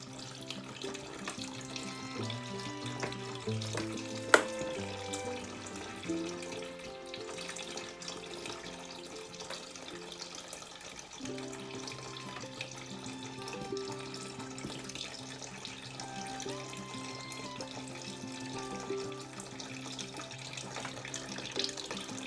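Freshly pressed apple juice gushing from a cider press, a steady faint stream of liquid pouring continuously and close, with no talk.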